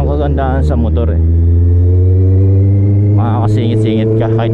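A motorcycle engine idling and revving as it threads through tight traffic, a loud, steady low hum with brief rises in pitch; people talk over it at the start and again near the end.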